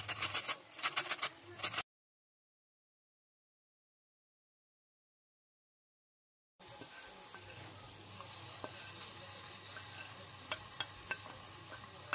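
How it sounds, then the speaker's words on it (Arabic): Onion and grated tomato sauté in a pan, a steady close sizzle with light stirring clatter at the start, then a gap of silence before the even frying hiss returns and continues to the end. "دابا غادي نخليها هكا تشحر على خاطرها"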